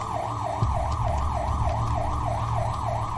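A police car siren wails in a steady, rapid up-and-down cycle, loud and close, over a low engine rumble, with no talk.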